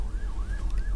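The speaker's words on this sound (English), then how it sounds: "That's the ambulance." An ambulance siren passes outside, wailing in three smooth rising-and-falling sweeps. It sounds fairly faint and distant over a low rumble of traffic, with no voices.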